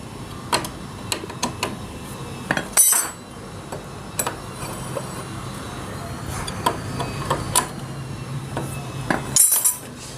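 Hand tools clink and tick against metal while the three cam sprocket bolts on a CD70 motorcycle engine are tightened, giving a run of sharp metallic taps and clanks close by over a low workshop hum.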